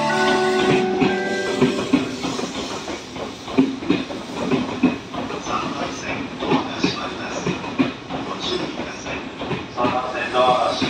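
Coupled Odakyu 8000 series trains depart Fujisawa station, with wheels clacking and motors humming steadily and close, over a station announcement and brief voices.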